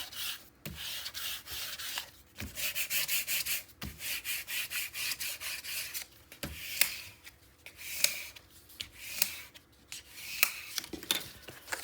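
Paper being burnished on a handmade mini album, heard as repeated close rubbing strokes in uneven bursts, some longer and some quick, fairly faint with no talk.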